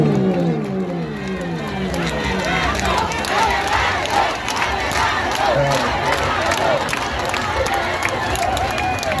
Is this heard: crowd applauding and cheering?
yes